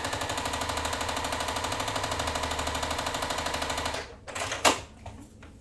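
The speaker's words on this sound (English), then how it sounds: "we're going to sew a 1/4 inch away from that drawn line" Sewing machine stitching quilt block pieces a quarter inch from a drawn line, a steady rapid mechanical chatter running for about four seconds before stopping, followed by a few handling clicks and a sharp knock.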